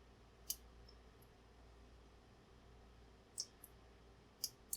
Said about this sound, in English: Little baby click there.